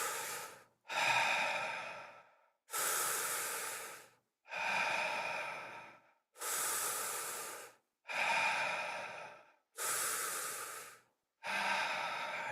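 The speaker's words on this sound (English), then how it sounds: "Let's begin breathing in and out of the mouth, deeply into the belly." Deep breaths drawn in and pushed out through the mouth during a guided somatic breathwork session, eight long, close, steady inhale-exhale swells in a slow rhythm with no talking.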